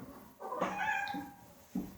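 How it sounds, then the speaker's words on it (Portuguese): A cat gives a drawn-out meow, fairly faint and slightly distant, followed by a short second mew. "não é aluno gritando, é gato miando"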